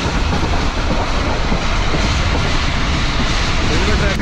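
The Musa Pak Express passes through Iqbal Nagar railway station at speed, a loud, continuous rumble and roar of the train running close by for the whole stretch.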